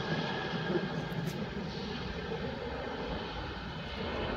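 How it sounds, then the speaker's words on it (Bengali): A passenger airplane lands on the runway at night at Shahjalal International Airport, heard as a steady, loud, broadband engine roar that holds throughout with no talk. "আমরা রাত্রে বিমান অবতরণের দৃশ্য দেখতে পেলাম"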